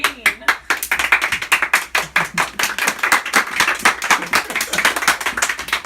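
Hands clap in a quick, steady run of sharp, close claps, loud and continuous over a few seconds while voices talk in the background.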